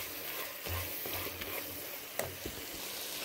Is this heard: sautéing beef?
yes